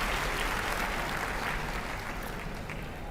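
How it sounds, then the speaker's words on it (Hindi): An audience at a youth event gives sustained, steady applause for volunteers, a dense even wash of clapping that holds for the full three seconds with no voices over it. "एक बार फिर से हम उनके लिए पुनः जोरदार ताली"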